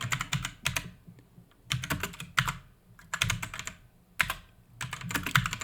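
Rapid bursts of typing on a computer keyboard as an essay is written, the clicky keystrokes coming in clusters separated by short pauses, close and fairly quiet.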